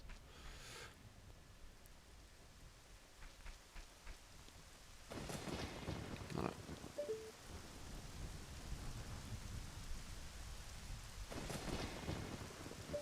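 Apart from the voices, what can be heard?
rain and thunder in Zelda Ocarina of Time video game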